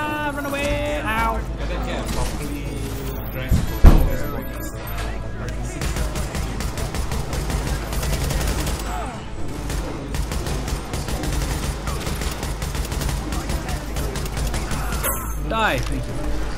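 Rapid gunfire crackles in The Division shooter game, dense bursts and volleys throughout under excited talking, with a sharp louder crack near the start.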